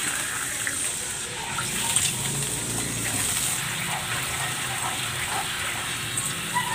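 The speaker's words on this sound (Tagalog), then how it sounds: "Lagyan natin ng tubig." Water is poured into a pan of frying kangkong with soy sauce and oyster sauce, giving a steady hiss and gush that runs through the whole stretch at moderate loudness.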